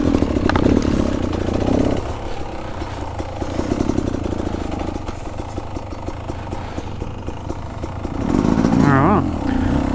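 A Beta Xtrainer 300 dirt bike climbs a bumpy, root-covered uphill trail in second gear, its two-stroke engine droning loud and steady with surges near the start and end.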